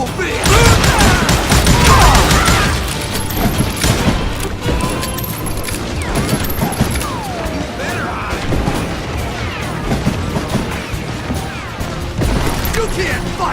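Rapid bursts of gunfire and crashing impacts from the Western shooter game Call of Juarez, loud and dense throughout, with shouting voices mixed into the barrage.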